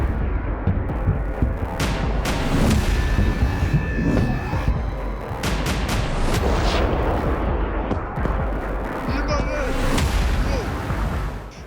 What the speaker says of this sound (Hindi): जैसे ही हिजबुल्लाह के हमले शुरू हुए, इजरायली आयरन डोम डिफेंस सिस्टम ने उन्हें हवा में ही नष्ट करना शुरू कर दिया।